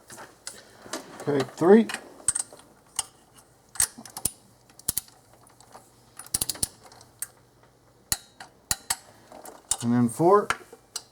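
A ratchet with a deep socket tightens the mid and upper intake bolts on a 2001 Infiniti QX4 in a first torque pass, giving sharp, close metallic clicks in short bursts between brief spoken counts.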